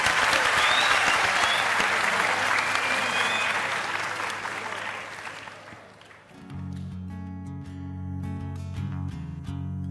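Loud, dense applause from a studio audience follows a singer's performance and fades over several seconds before music starts up again.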